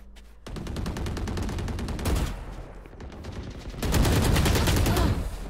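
Gunfire in the shooter game Valorant comes as loud, rapid automatic bursts, one sustained stretch and then a second, harder volley, with sharp shots rattling close together.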